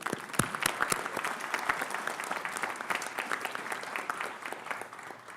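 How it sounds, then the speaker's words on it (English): An audience at a summer convocation ceremony applauds the winners steadily, many hands clapping in a dense patter that holds for several seconds before thinning slightly at the end. "why don't we give a large round of applause to all of our winners here tonight"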